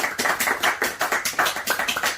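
A church congregation clapping for themselves after a sermon, a quick, steady rhythm of hand claps, fairly close and with no talking over it.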